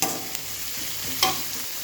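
Capsicum stirred and frying in a pan for a mushroom gravy, a steady close sizzle with a few brief scraping knocks of the spoon, no talking.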